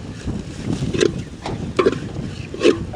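Strong outdoor wind blows across an open-air cooking fire in Kerala, rumbling in uneven gusts with several sharper buffeting bursts against the microphone.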